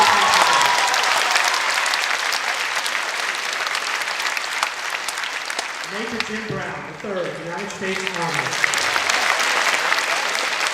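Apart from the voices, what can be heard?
audience applause for veterans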